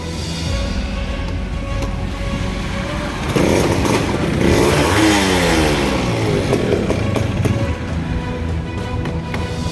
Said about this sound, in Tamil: வண்டி இப்போ ஸ்டார்ட் பண்ணி காமிக்கிறேன் உங்களுக்கு.